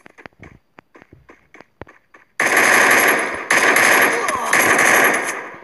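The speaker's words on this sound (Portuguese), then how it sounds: "tem gente me atirando" Automatic gunfire in the Free Fire video game bursts loudly in long sustained rattling volleys after a few sparse quieter taps and shots, close and dense, with no talk over it.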